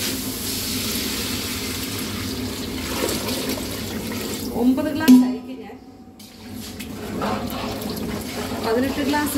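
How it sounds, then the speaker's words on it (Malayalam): Water is poured from glasses into a large pot of rice for pulao, a gushing stream that swells to a loud peak midway and then eases off, with a voice talking over the kitchen sounds. "18 ഗ്ലാസ് വെള്ളമാണ് ഞാൻ ആഡ് ചെയ്യുന്നത്"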